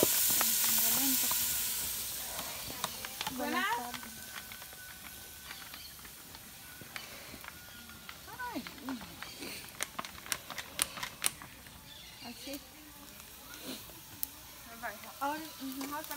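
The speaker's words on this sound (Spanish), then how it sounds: "Se va a mover y se va a dejar sofreír." Chicken sautéing with vegetables and tomato in a pan gives a steady hiss and sizzle, louder at first, with scattered clicks of stirring and voices talking over it.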